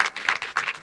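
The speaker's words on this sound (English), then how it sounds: "We got applause before we even sat." Audience clapping at a panel discussion on AI governance before the panelists sit down, a short burst of dense, continuous applause from a crowd.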